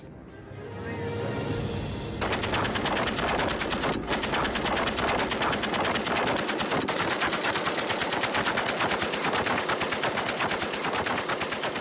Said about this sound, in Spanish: Karin Manhau dispara contra el tronco del árbol con la ametralladora Maxim